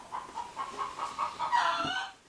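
A farm chicken clucks in a quick run of about eight to ten short, evenly spaced calls, ending in a louder, drawn-out squawk, close by with no talking.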